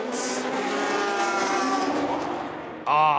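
Race cars in the LMP2 class battling for position at the 24 Hours of Le Mans, a loud sustained engine roar with a brief sharper burst near the end, heard under a commentator's voice.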